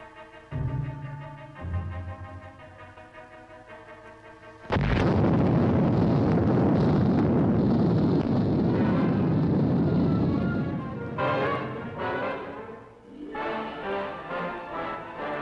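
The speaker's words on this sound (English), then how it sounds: "Nuclear explosion, troop dispersal, assault, all finally integrated into a controllable operation." A sudden massive nuclear explosion at Yucca Flats, Nevada erupts after a quieter musical stretch, swelling into a long, loud rumbling roar that slowly breaks up into rolling booms.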